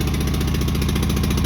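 A propane-fuelled backup generator engine idles steadily just after being pull-started, a continuous low rhythmic mechanical thrum close by with no pauses.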